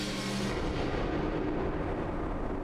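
A loud burst from a gunshot in the video game NORCO, a sudden broadband crack that decays into a sustained rumbling wash with no talking.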